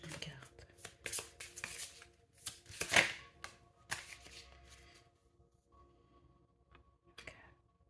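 Tarot cards are shuffled close up in quick riffling bursts and soft card slaps, with faint low speech in between and quieter handling toward the end.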